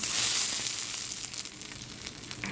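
Mustard seeds, urad dal, dried chillies and curry leaves crackle in hot oil as a tempering for pudina chutney, a loud, dense hiss of sizzling and spitting heard close and unbroken, without speech.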